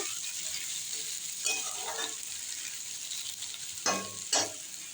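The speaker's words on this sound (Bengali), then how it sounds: "পেঁয়াজটা লাল করে ভেজে নেব" Finely chopped large onions fry in a pan, giving a steady close sizzle with a few louder stirring scrapes near the middle and end; no one speaks.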